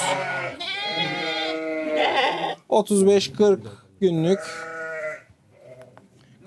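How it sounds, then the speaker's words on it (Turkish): A female Merino lamb bleats loudly and repeatedly up close while being weighed on a farm scale, several drawn-out wavering calls with brief gaps, with a person speaking briefly alongside. "Dişi bir kuzumuz."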